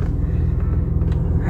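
A car's engine idles after a cold start, giving a steady, loud low rumble that runs evenly throughout with no speech over it.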